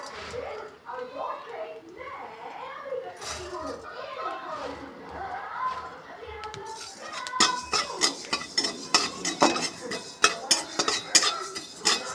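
Whole coriander and spices for fuchka masala are dry-roasted and stirred in a pan. A voice talks for the first half, then a spoon scrapes and clatters against the pan in quick, busy strokes.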